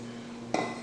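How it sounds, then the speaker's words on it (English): A utensil clinks and scrapes twice against a pot of homemade pork and beans being stirred, short close knocks after a quiet moment. "so we're just going to mix this up good here."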